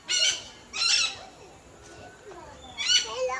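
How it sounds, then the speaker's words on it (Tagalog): A bird at a zoo gives several loud squawking calls, separated by brief gaps, with faint background voices. "Look at this rainbow bird."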